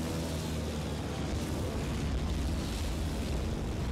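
Bombs burst in Battlefield 1943, a dense, loud rumbling roar of explosions filling the whole stretch without pause.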